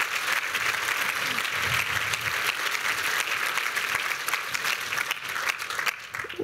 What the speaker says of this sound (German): Ich darf um einen Applaus ersuchen